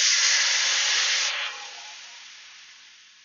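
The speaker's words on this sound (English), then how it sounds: "we're going to deglaze a pan with 300 ml of red wine" Red wine, 300 ml, hits a hot pan of sweated shallots with a loud, close hissing sizzle that bursts at once and then slowly fades as the wine settles.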